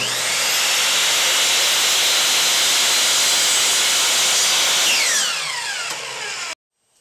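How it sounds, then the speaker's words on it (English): A miter saw cuts through a wooden shelf support piece for a bookcase, a loud close whining hiss that holds steady for several seconds, then spins down before falling silent. "let's go cut this piece at the miter saw"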